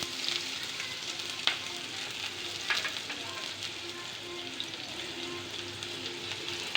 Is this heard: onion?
yes